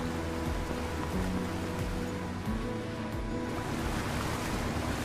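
Water and waves out on the bay off Newport, a steady wash of surf and wind noise, continuous and fairly even throughout with no voices.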